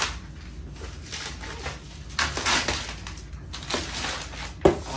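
Plastic-wrapped cardboard box for an Instant Omni Plus air fryer oven being opened up close: continuous crinkling, rustling and tearing of plastic and cardboard with a sharp knock near the end.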